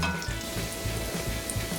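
Bacon fries in a pan with a constant, soft crackling hiss and faint low pops, no talking.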